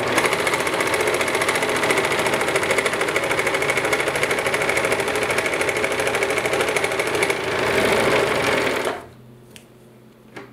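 A serger sews and trims an armhole seam on a bag, running in a loud, fast, steady mechanical whir for several seconds before stopping abruptly.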